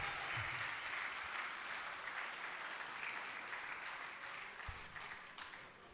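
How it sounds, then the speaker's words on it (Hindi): An audience at a mushaira poetry recital claps in a steady, moderately faint round of applause that gradually thins out, with a few brief knocks near the end. "अब एक बार तालियां बजा दिए ताकि मैं सांस ले लूं"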